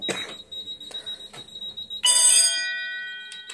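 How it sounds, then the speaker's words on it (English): Fire alarm sounding during a test, a loud electronic tonal beep repeating in short pulses, then a sustained bright ringing tone that slowly fades, with no talk. "I wonder why it's beeping."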